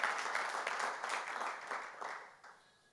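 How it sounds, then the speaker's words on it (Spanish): A church congregation claps together during a sermon, a short burst of fairly faint, dense applause that fades out over about three seconds. "denle un aplauso al Señor"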